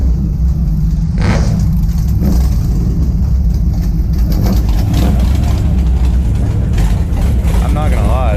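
At an outdoor car show, a ProCharger supercharged Corvette engine idles loud and rough nearby, with a brief rev, while people talk over the rumble.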